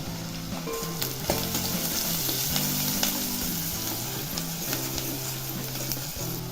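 Onion fries with turmeric in a pan for a banana-flower dish, giving a constant loud sizzle with occasional stirring scrapes over a low steady hum.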